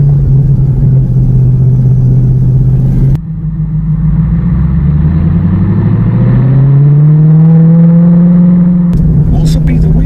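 A TVR Chimaera 500 sports car climbs the Klausen Pass, its loud engine droning steadily, then revving up through a rising pitch sweep before easing back, close and continuous with a brief clatter near the end.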